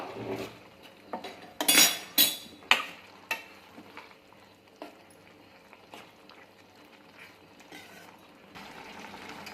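Squeezed tamarind being stirred and mixed for a tomato chutney, with a few sharp clinks of utensil against a pot early on, then soft, quiet stirring and scraping.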